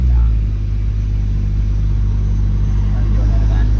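Tuned 700 HP BMW 335i engine under load on a Los Angeles street, a loud deep rumbling drone heard from inside the car, sustained for a few seconds with people talking over it.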